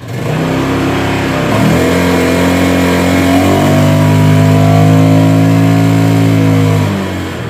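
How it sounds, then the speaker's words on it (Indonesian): A Honda Beat fuel-injected scooter with a sluggish, underpowered fault revs loudly and close as the throttle is pulled, its engine pitch climbing in steps and holding high before easing off. "kita tarik gas bertambah RPM-nya"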